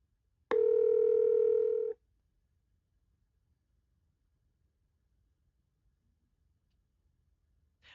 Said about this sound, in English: tapping on a phone number calls that number